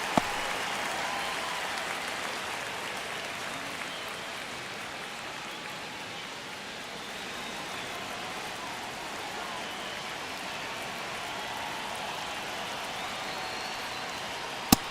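A baseball stadium crowd roars steadily in the ninth inning of a one-run MLB The Show 25 simulation, Mexico against Italy, a constant broad wash of cheering and applause with no commentary over it.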